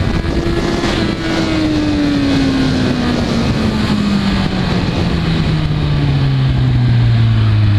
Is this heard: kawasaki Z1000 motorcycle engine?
yes